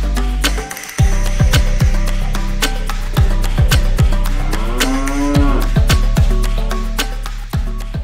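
Dairy cows moo at a farm, several loud, close, drawn-out calls overlapping one after another over a steady barn background.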